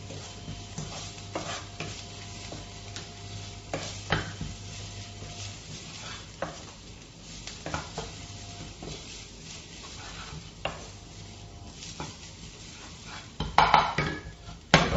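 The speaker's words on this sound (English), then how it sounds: "Throw in whole red chili." Whole red chili sizzles in hot oil in a pan while turmeric fish curry is started, a steady frying hiss broken by clinks and scrapes of a utensil against the pan, growing busier toward the end.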